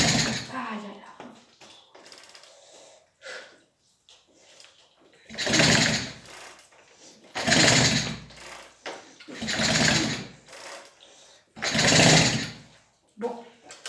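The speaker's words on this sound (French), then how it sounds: "ça refuse de démarrer. Hein. Ça démarre pas." A Peugeot 102 moped engine being cranked over and over without catching, in several loud bursts of rapid mechanical chatter separated by pauses, with a voice speaking between attempts.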